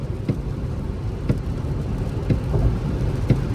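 Heat pump fan of a Hyundai Ioniq 6 running at top speed on a cold, windy day, a steady low broadband whoosh heard from inside the car, with a few faint ticks and knocks along the way.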